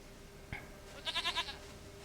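A goat in The Witcher 3 video game bleats once in a short quavering burst, fairly close and clear, after a single soft thump.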